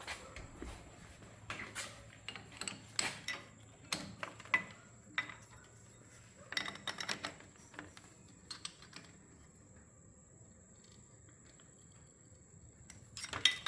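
A wrench tightens a fitting on a boosted race truck during torque converter work. Sparse metallic clicks and clinks come in short bursts with quiet gaps between them, close by, with no talking.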